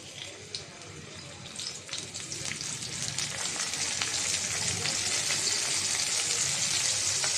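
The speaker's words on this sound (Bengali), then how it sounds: "তাওয়াটা গরম হয়ে গেছে তেল দিয়ে দিলাম মাছটা দিয়ে দিলাম" Chanda fish laid into oil on a hot tawa, giving a bright crackling sizzle that builds over the first seconds and then holds steady, close by and moderately loud.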